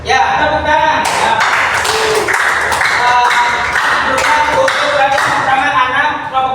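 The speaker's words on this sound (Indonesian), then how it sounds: "Ya, tepuk tangan." Students clap together in a classroom during a lesson, a steady dense patter of many hands lasting several seconds, close and fairly loud with tonal voices or music-like sounds mixed in.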